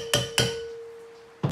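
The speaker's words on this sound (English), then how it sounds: "give them a little tap on top of the valve" Three sharp metallic taps of a hammer on a valve spring retainer on a junkyard LS 5.3 cylinder head, the first two close together and the third after a long ringing decay, each leaving a steady metallic tone hanging.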